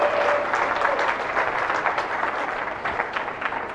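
An audience at a 4-H and FFA swine showmanship show claps for the class winners, a dense, steady round of applause from a crowd that tapers off slightly near the end.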